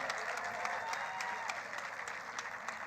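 Audience applause at a fast-fashion debate, a continuous, fairly even wash of many hands clapping heard from within the room, with no talking over it.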